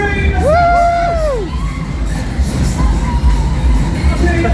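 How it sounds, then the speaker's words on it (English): Riders on Codona's Star Chaser waltzer at a fairground market scream and whoop together in a loud, close crowd burst, with rising and falling shrieks over steady ride noise and chatter. "Somebody scream!"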